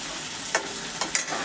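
Koi fish frying in a pan of hot oil, with a steady low sizzle and a few sharper crackling pops.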